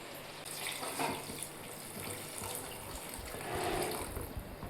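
Water streams steadily into a pot for several seconds, a continuous splashing pour at moderate volume with no voices.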